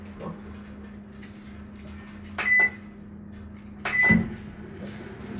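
A microwave oven hums steadily while heating string cheese, its low drone broken by two short clunks and beeps of the door or keypad.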